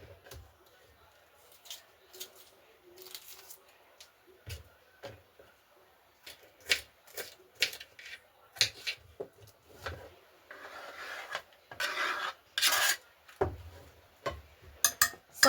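Vegetables are chopped with a knife on a board while making a cauliflower gratin with meat, sparse irregular taps and scrapes, soft at first and then busier and louder, close up with a few quiet handling noises.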